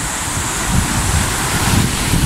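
Floodwater from the overflowing Babame River in Gojome, Akita, rushes loudly during record heavy rain, a dense, continuous roar close by with wind buffeting the microphone.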